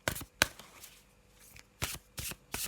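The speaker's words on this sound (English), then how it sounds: "I'm just going to have a little shuffle now" Tarot cards being shuffled by hand during a reading, a few short papery riffling bursts spaced apart with quiet gaps between, close and moderately loud.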